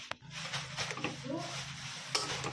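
Masale bhat, spiced rice, stirred in a cooking pot, with soft scraping and clinking of a utensil against metal and a faint sizzle, close by, under a low background hum.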